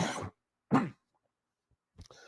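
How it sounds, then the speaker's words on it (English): Two short, sharp coughs from one person sound close and separate, with a silent gap between them, then a brief breathy noise trails off. "That made me cough."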